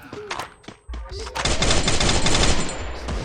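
Rapid automatic gunfire in the Free Fire mobile shooter game, a few scattered shots followed by a dense, loud sustained burst, with a player's voice talking briefly before it.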